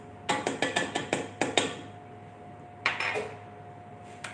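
A run of quick metallic clacks, then a single scrape, with a steady hum beneath. An electric mixer is beating eggs and powdered sugar in a bowl, and no one speaks.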